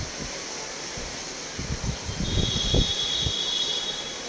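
Inside a moving passenger train on a trip to Digha, a steady rumble of wheels and carriage noise rises briefly into a louder clattering burst midway.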